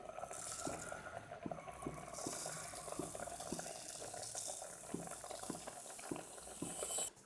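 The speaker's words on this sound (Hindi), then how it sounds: "हल्की आंच पर स्ट्रॉबेरीज को पका रही हूँ।" Strawberries with a cup of sugar simmering on low heat for jam, giving faint, steady bubbling with soft regular stirring knocks throughout, quiet and close with no talk.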